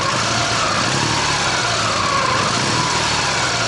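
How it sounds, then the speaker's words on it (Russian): Ural motorcycle engine running steadily just after pulling away from a fuel station, a continuous mid-pitched mechanical drone with faint valve ticking, close and alone without talk. "Я вот сейчас отъехал от заправки и слушаю двигатель."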